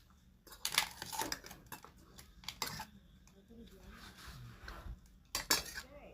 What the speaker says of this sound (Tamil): கடுகு சோம்பெல்லாம் நல்லா பொரிய வரட்டும். நல்லா கொஞ்சம் கிண்டிக்குவோம்.